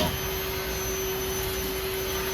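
A Milwaukee M18 Fuel backpack vacuum runs steadily and fairly quietly throughout, a constant airy whoosh with a fixed motor whine, no voices.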